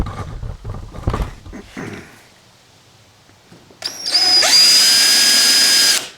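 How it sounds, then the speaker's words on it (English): Some clattering handling noises, a pause, then a power drill spins up and grinds steadily through the plastic of a new Polaris Ranger for a couple of seconds, loud and close. "Got a brand new machine and I'm drilling holes in it."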